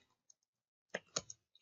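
A few sharp keystroke clicks, sparse and irregular, then a short burst of three louder taps close by in a quiet room.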